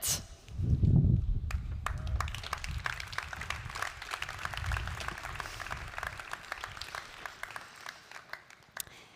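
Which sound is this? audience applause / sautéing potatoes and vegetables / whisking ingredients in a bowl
audience applause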